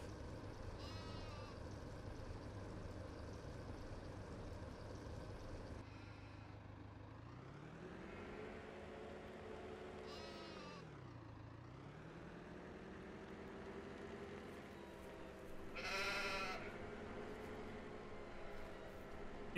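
Sheep in a Farming Simulator 17 pen bleat a few times amid a steady mechanical engine drone, with occasional tonal calls rising and falling over the background hum.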